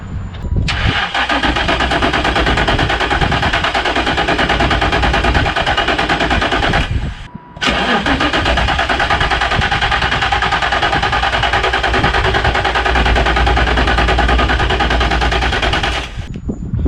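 A Nissan S13 drift truck engine is cranked with the key, a loud, continuous rattling starter grind running close up for several seconds, with one brief pause before it resumes.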